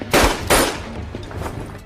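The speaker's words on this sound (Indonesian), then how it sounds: "Akibat suara tembakan itu membuat semua tentara Belanda bergegas menuju sumber suara." Two sharp gunshots ring out about a third of a second apart, loud and close, then fade into a low rumbling tail, from a battle between Indonesian fighters and Dutch soldiers.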